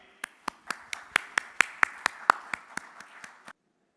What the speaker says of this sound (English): with a big round of applause, please join me in welcoming our next speaker